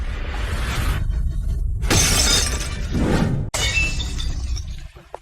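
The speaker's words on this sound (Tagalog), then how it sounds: "Bakit mo nabasag ang florera?" An expensive flower vase shatters, with loud crashing bursts of breaking glass and ceramic followed by scattered tinkling fragments, close by and with no voices.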